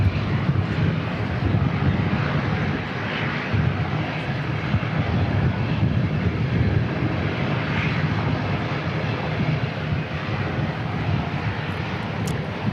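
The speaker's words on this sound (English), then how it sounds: "Jetstar 231 coming in from Auckland." A Jetstar airliner arriving from Auckland roars steadily at Christchurch Airport, a loud, sustained engine rumble with wind buffeting the microphone and no voices.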